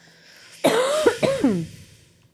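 A single close cough followed by a couple of raspy, throaty coughs and a trailing throat clear, loud against a quiet room.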